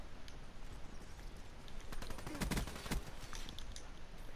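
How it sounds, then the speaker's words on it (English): Submachine gun fire in a video game match: rapid bursts of shots crackle under a constant noisy game backdrop, with the densest cluster of loud reports midway through. "he's trying to use this as a submachine gun"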